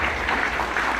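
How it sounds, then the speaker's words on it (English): Audience at a local history discussion event in an event center applauds, a dense continuous patter of clapping from many hands, steady and moderately loud. "So let's give them a round of applause as well."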